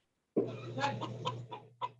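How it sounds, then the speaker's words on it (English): Chickens on a farm, a rooster and hens clucking close by in a short burst of several throaty clucks with brief gaps, over a low steady hum. "I hear the rooster, the hens, yeah, chicken."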